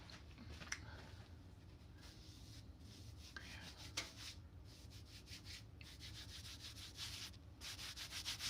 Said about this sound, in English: Peeling the fabric.